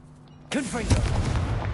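A Confringo blasting spell in Hogwarts Legacy goes off as one abrupt, loud booming explosion after a quiet moment, its crackling rumble lingering for the rest of the clip, with a shouted incantation at the start.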